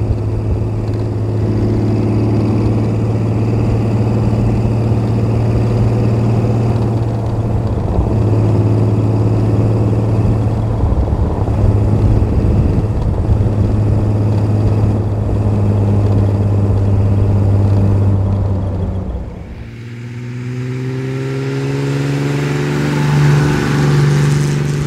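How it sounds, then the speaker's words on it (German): A 1935 Frazer Nash BMW 315 Sport engine idles steadily with a low, even rumble, loud and close, then briefly dips and picks up again near the end; no talking. "Hört euch mal den Motor an."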